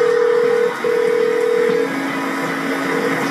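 Telephone dialing tones as a call is placed, a steady sequence of tonal beeps with brief breaks, loud over a dense background hum, with no talk.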